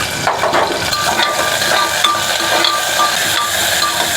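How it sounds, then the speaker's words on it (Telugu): Onions frying in a cumin tempering give a steady, close sizzle and hiss, with light stirring scrapes and faint utensil clinks throughout. "జీలకర్ర కొద్దిగా వేగాక ఇప్పుడు తిరగమాతలో ఆనియన్స్ వేసుకుంటున్నాను"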